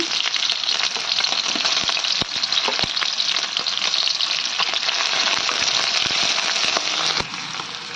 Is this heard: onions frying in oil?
yes